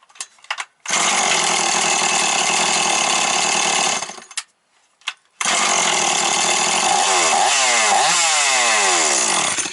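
A hot Stihl 180 chainsaw under repair fires up and roars loudly, cuts out briefly after a few seconds, then restarts and revs up and down steadily.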